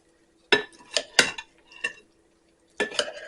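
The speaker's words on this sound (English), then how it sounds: "let me get this stirred up" A cauliflower antipasto salad with dressing is stirred in a bowl, giving several distinct clinking, scraping strokes in irregular bursts separated by short silences, close and fairly crisp.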